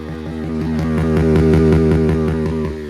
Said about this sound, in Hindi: इंजन की नॉइस सुनो, देखो भाई इंजन की नॉइस सुनो